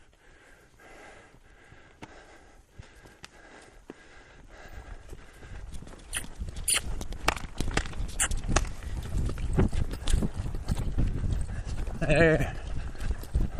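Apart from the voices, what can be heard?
horse hooves clip-clopping at a lope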